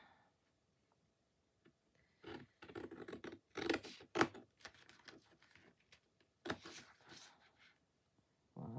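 Faint, irregular snipping and rustling of paper being cut, a series of short crisp cuts in quiet surroundings.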